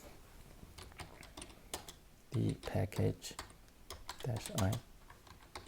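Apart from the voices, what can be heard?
typing a command on a computer keyboard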